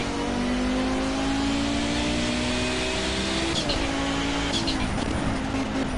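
A car engine in Project Cars holds a loud, constant note while taking bends at speed, its pitch gliding down and then jumping back up as gears change.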